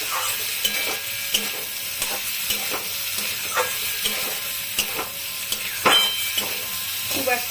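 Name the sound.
prawns and potatoes frying in a pan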